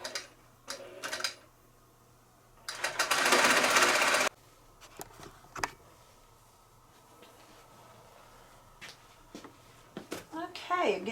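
A longarm quilting machine stitches across a quilt in one loud, dense burst lasting under two seconds, set between quiet stretches with scattered clicks and a person talking.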